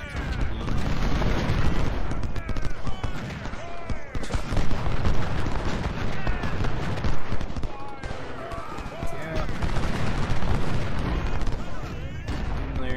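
Artillery and musket fire in the Civil War strategy game Ultimate General: Civil War, a continuous dense rumble of distant cannon booms and crackling volleys, with someone talking over it throughout.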